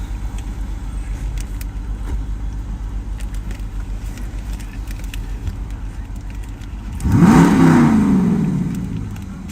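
A car engine steadily idles under light background talk, then is loudly revved once, climbing sharply and slowly dropping back toward idle, the revving close and dominant.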